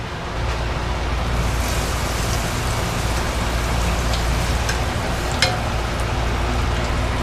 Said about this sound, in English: So now I'm going to take my mozzarella risotto balls and dip them into my frying oil, which I have halfway filled.